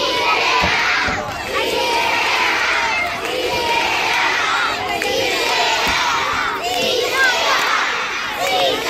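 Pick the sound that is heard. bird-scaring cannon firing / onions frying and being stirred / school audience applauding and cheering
school audience applauding and cheering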